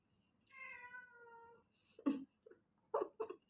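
A cat meows once in a drawn-out cry, then gives a few shorter, sharper meows close by in a quiet room.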